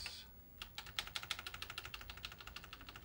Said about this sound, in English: Can I hold down on the keyboard and have it run?